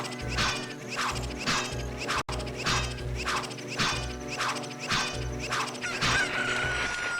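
Chickens in Zelda: Ocarina of Time, a modded randomizer playthrough, cluck in repeated rhythmic bursts with a brief crow-like call near the end, loud and steady with no talk over them.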